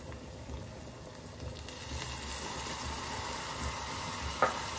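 Shallots softening in a pan after a spoonful of white vinegar is added: a faint, steady sizzle and gentle bubbling, with one small clink near the end.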